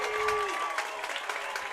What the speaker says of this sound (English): that'll get this crowd to their feet